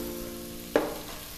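Meat searing in a frying pan, a steady close sizzle with a sudden louder hiss and clatter midway as the meat is moved or turned, no voices.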